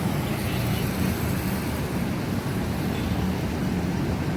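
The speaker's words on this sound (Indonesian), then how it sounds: "cukup padat lalu lintas." Busy night-time city traffic in Palembang, Indonesia, a steady low rumble of passing cars and engines with a continuous wash of road noise heard from a distance.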